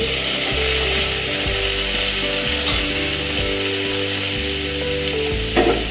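Tomatoes and onions sauté in a pan for a soya chunk gravy. The sizzle is steady and close, and a spoon stirs them with periodic low scraping knocks.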